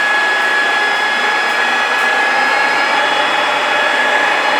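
A Sirco 40" x 85" manual lathe runs with a steady, even whine and constant hum, loud and close, with no change in speed and no voices.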